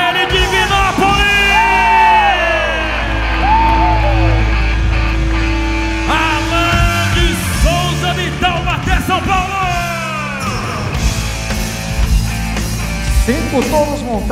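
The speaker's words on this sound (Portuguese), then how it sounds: "Palmas a ele, Divinópolis!" A rodeo arena crowd in Divinópolis cheers and yells for a bull rider, loud and sustained, with an announcer's amplified voice talking over the roar.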